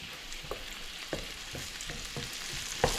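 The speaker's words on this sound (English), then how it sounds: "Let me give that a bit quick stir" Pork chops fry in a pan and get a quick stir, a steady low sizzle broken by several soft scrapes and a sharper knock near the end, close and quiet.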